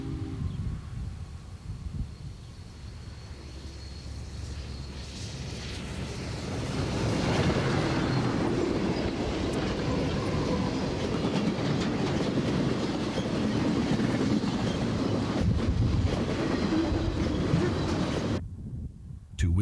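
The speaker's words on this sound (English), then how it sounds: "Here we see the precision might of World War II technology accelerating the stricken third-generation diesel and its train south out of Nunn." Union Pacific 844, a World War II-era 4-8-4 steam locomotive, hauls a stricken diesel and its train south out of Nunn. A steady rumble grows louder and fuller midway as it passes nearby, then cuts off abruptly near the end.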